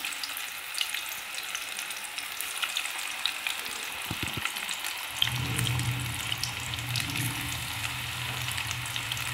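Small hand-dropped pakoras frying in hot oil, a steady bubbling sizzle that swells into a louder, fuller crackle partway through as more batter goes in.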